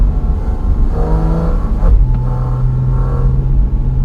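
Porsche Cayman GT4 RS engine on the Furka Pass, a close, loud rumbling drone that swells and eases as the revs shift, then settles into a sustained steady tone in the second half.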